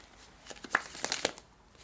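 A deck of tarot cards is shuffled by hand, producing a short burst of quick riffling and flicking sounds that are close and fairly clear.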